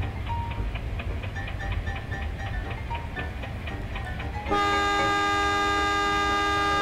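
A locomotive horn blares in the Trainz Simulator railway game on an Indonesian route near Purwakarta station, entering abruptly as a loud sustained tone over the steady rumble and clicking of the running train.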